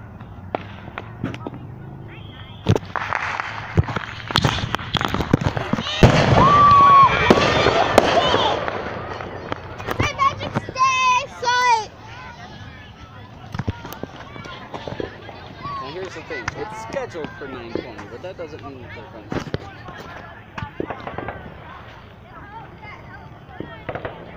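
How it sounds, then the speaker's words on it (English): Fourth of July fireworks bursting nearby, a run of sharp bangs and crackles with a dense crackling burst in the middle, while people talk and shout throughout. "Fireworks time. Bam. Fireworks time."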